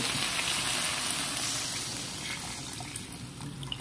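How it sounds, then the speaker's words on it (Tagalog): Water pours steadily into a cooking pot for salmon sinigang, a continuous rushing splash that gradually eases off. "Nilagyan natin ng tubig."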